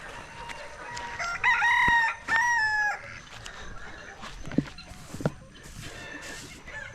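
Chickens cluck and a rooster crows, with loud crowing bursts in the first few seconds over a busy outdoor background, then scattered clucks and sharp nearby knocks.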